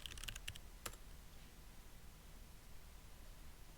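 Quiet, quick tapping on a computer keyboard as a command is entered on an Ubuntu Linux system, a short flurry of keystrokes at the start, then only a faint background hiss.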